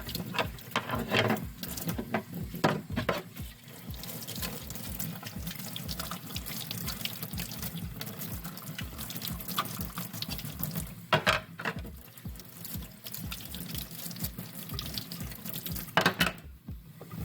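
Running tap water splashes and gurgles over an old yellowed plastic part being rinsed, a steady close wash of water broken by uneven knocks and rattles as the part is handled, with no talking.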